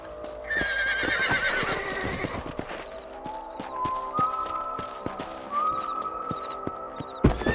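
Horses in the Red Dead Redemption video game whinny and neigh loudly near the start, with hoof clip-clops and western ambience following. Scattered game sounds continue at moderate level.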